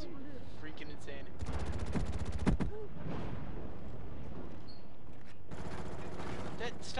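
Gunfire in Call of Duty Black Ops during a Domination match on Hangar 18, with loud bursts of automatic weapon fire in quick rapid volleys and dense game noise around them.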